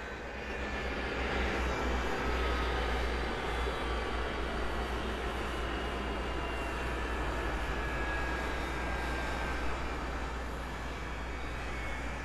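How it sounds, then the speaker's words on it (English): Air Force One's jet engines spin down on the ground at an airport in Phoenix, Arizona, a steady, loud broadband roar with a deep rumble and a thin whine that holds nearly level throughout, with no voices. "Okay, engines powering down."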